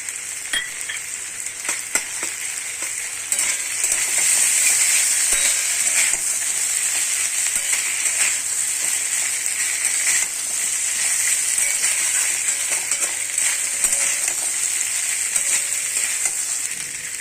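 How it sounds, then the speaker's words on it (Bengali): Ginger, garlic and peas fry together in a wok, giving a loud, continuous close-up sizzle that swells after a few seconds. Faint clicks of stirring come through now and then, and nobody talks. "এবং কড়াইশুটিগুলো দিয়ে দিচ্ছি সব একসাথে ভাজা ভাজা করে কষে নেব"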